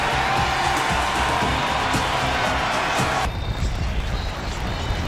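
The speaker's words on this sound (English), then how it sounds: "That'll wake up the Lambeau crowd." A loud Lambeau Field football crowd roars for a Green Bay Packers extra point in a 1999 game against the Vikings, a dense sustained cheer that cuts off abruptly partway through.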